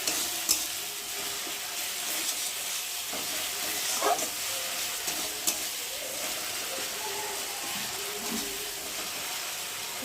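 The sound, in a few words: mustard paste frying and being stirred in a pan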